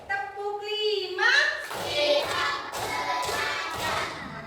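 A classroom group of children chants and then breaks into a burst of hand clapping that blends with excited children's voices.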